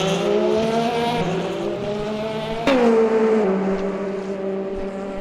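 GT3 race cars at Indianapolis in the Le Mans Ultimate sim racing game, a steady loud engine drone with a sharp gear-shift jolt midway and rising revs, tyres faintly squealing.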